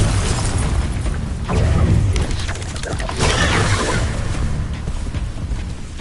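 Explosive spell blasts from an Incendio fire spell in Hogwarts Legacy, a couple of loud booming bursts over a dense, continuous wash of game combat noise.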